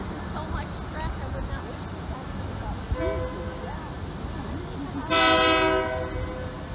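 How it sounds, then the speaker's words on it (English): A maintenance of way train rolls by with a low rumble on a windy day, people talking faintly over it, then a loud, bright horn blast sounds briefly near the end. "here comes the maintenance of way train first"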